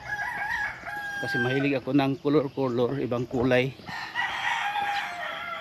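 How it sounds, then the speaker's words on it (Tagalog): Several roosters crowing in the morning, their calls faint and distant in the background while a person talks close by over them. "ang daming manok, no? Kasi umaga ngayon yung mga manok"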